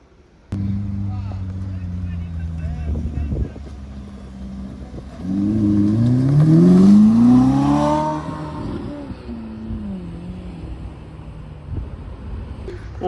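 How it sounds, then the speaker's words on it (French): A Ferrari SF90 with a Novitec setup accelerates past at a street carspotting spot in Deauville, its engine note climbing and rising in pitch to a loud peak before fading, with background traffic and ambient noise around it. "pas mal, la petite accélération de la SF90 en Novitec, ça sonne vraiment aigu"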